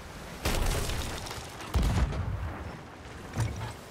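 Cannon fire in a naval video game: three heavy booms about a second apart, each a loud blast with a rumbling tail, standing alone without talk.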